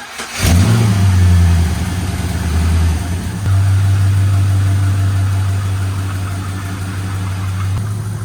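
A Holden LS1 V8, damaged during a burnout, turns over and fires, then settles into a loud, steady, lumpy idle that holds close and alone.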